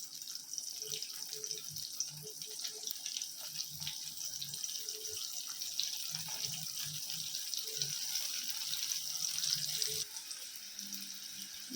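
Brinjal frying in a pan gives a continuous soft crackle with scattered spattering pops and a few clinks. It stays fairly faint and runs alone, with no talking.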